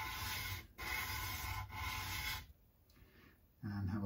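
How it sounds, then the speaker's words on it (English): A file rasps steadily along the metal fret ends of a Squier Bullet Mustang guitar, close and fairly loud in long repeated strokes, pausing briefly near the middle and easing off before a final stroke resumes. "we just run down the metal, sand the metal off"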